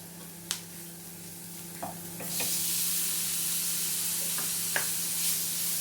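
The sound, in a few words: stirring horsegram masala frying in a pan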